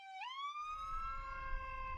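A loud ambulance siren on a Mexico City street sweeps up then holds a steady wailing tone, close and dominant, with low traffic rumble underneath.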